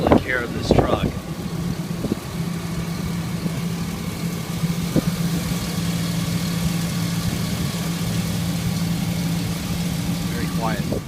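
A 2004 Chevrolet Silverado pickup with a 6-liter Vortec gas engine idles smoothly and quietly with a steady low hum, beneath brief bits of nearby talk at the start and end.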